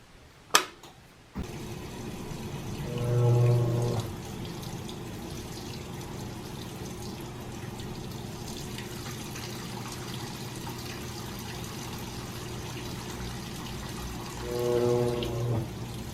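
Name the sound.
GE Spacemaker washer sensing load weight, stopping and starting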